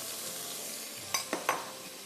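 Paneer cubes drop into a pan of already fried potatoes for a ginger oatmeal halwa, giving three quick sizzling bursts over a soft, steady frying hiss.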